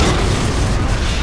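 Mortar blast in Gears of War: Judgment ranked multiplayer: a dense, sustained low rumbling boom that fills the whole moment, loud and steady with no talk over it.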